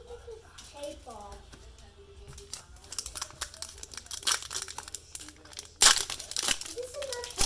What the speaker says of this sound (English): How do you get this tape off?